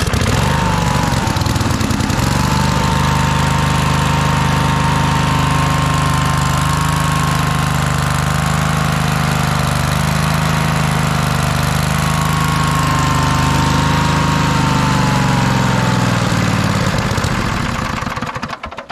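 A Cub Cadet RZT zero-turn mower engine runs on choke after a cold start, a loud close buzzing drone with a steady tone that holds evenly before dying away at the end.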